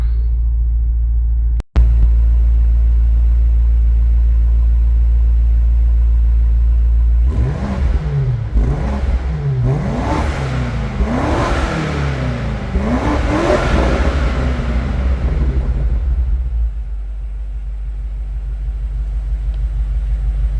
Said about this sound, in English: So that was just the stock exhaust, and I think that sounded pretty ridiculous